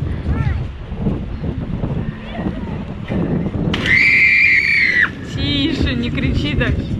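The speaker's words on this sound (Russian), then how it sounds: "Тише, не кричи так." A person lets out a loud, sustained, high-pitched scream outdoors by the water at a Turkish holiday resort, rising out of chatter and wind noise, with voices continuing around it.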